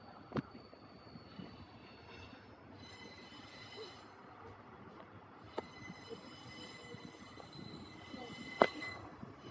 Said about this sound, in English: The next Perth train is coming on the other platform right now.